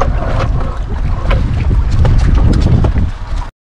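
A boat engine runs loud and close on a fishing trip at Kuala Trong, Perak, a steady rough drone mixed with wind buffeting the microphone until it cuts off abruptly.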